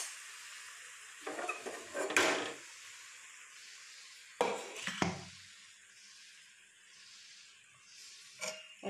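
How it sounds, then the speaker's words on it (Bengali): Cooked chickpea curry scraped and poured from a cooking pan into a serving pot, a few separate bursts of metal scraping and clinking against quiet background. "একটা পাত্রে ঢেলে নিব।"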